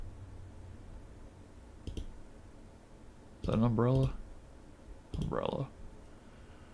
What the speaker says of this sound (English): I'm just clicking everywhere at this point